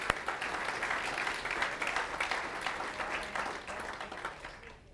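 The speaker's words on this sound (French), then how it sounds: "Est-ce qu'on peut applaudir Jésus pour ce qu'il a fait?" Sustained applause from a church congregation during a sermon, dense clapping that fills the whole clip at steady loudness before tapering slightly at the end.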